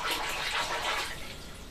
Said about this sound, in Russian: Эта вот вода прям из-под крана.